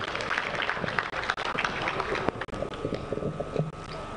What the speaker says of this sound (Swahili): naomba tumpigie makofi mengi sana Katibu Mkuu wetu